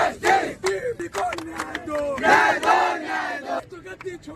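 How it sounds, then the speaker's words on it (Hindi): Protest crowd at a street rally, many voices chanting slogans together in loud rhythmic bursts with short pauses between shouted phrases, close and dense. "पूरी तरीके से भीड़ है, नारेबाजी हो रही है यहाँ पे"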